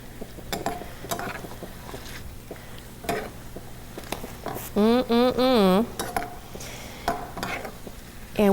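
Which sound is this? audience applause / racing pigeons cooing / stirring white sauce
stirring white sauce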